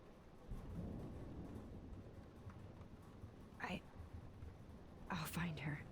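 Rumbling thunderstorm with rain in the video game Life is Strange, a low steady roar throughout, with faint voices and brief louder bursts near the end.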